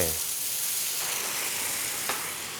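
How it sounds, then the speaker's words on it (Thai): Water poured into a hot pan of frying tofu pouches bursts into a loud, steady sizzle and hiss that fills the whole stretch, close up and sustained. "เราจะใส่น้ำเปล่าลงไป"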